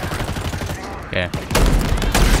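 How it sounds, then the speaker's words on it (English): Rapid automatic assault rifle fire in the video game Halo Infinite: close, loud bursts of evenly spaced shots, pausing briefly before a second heavier volley. "Assault rifle's not the play here"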